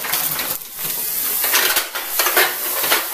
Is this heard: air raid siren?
no